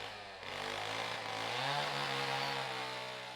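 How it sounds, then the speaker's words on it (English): Chainsaws cut wood in central Nigeria near Abuja, giving a loud, continuous two-stroke engine whine that climbs in pitch as the blade bites and holds steady under load. "the sounds of chainsaws made me stop"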